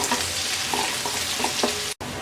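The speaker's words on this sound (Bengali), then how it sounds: "পেঁয়াজটা হালকা ভেজে নেব।" Chopped onions frying lightly in a pan for chola bhuna, a steady close hiss of sizzling oil with a few stirring clicks, briefly cut off near the end.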